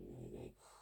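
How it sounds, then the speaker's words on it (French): A dog gives a brief low growl, close by but quiet, lasting under a second with no speech. "j'entends le chien qui me fait un boucan d'enfer alors que la petite dort"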